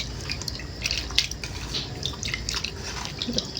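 Fresh fish being rinsed with hot water, a busy run of splashing, dripping and trickling water in a bowl or under a tap, close and moderately loud.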